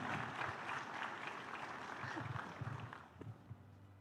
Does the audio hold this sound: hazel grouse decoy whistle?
no